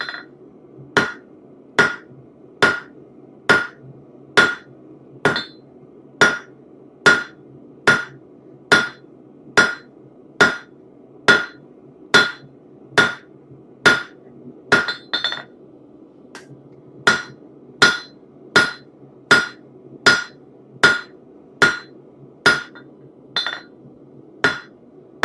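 Hammer flattening a hot metal piece for a trivet, a long series of loud ringing strikes at an even, steady pace, close by, with a brief pause partway through before the blows resume.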